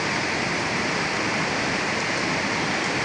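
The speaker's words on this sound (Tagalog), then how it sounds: "Biglang lumakas ang ulan mga idol." Heavy rain pours down on Pugoso Street in Santa Cruz, Manila, a dense, steady hiss of downpour filling the scene without a break and with no voices over it.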